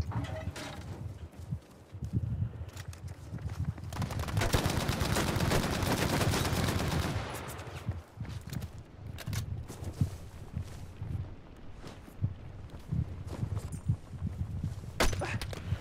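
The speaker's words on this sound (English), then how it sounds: "Oh fuck, I'm getting shot to the right" Gunfire in a video game: a loud, dense burst of rapid shots roars through the middle, surrounded by scattered single cracks and softer thuds, with faint voices underneath.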